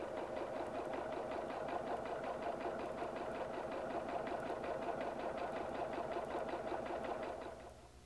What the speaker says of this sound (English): That prevents the foot from sticking to the leather as you sew.